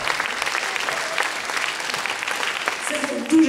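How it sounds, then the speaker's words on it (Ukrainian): Steady applause from an audience at an awards ceremony for a festival-competition grand prize, filling the whole stretch as a continuous dense clatter, with a few brief tonal sounds near the end. "Наші аплодисменти!"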